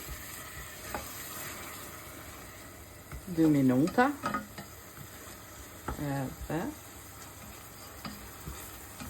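Wine sizzles and crackles in a hot pan at low level as the alcohol cooks off, while a person briefly speaks over it twice.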